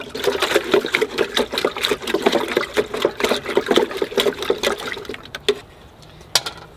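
Powdered fertilizer is stirred into water in a two-liter watering can, giving rapid rhythmic sloshing and clinking strokes, close and loud, that slow and stop near the end.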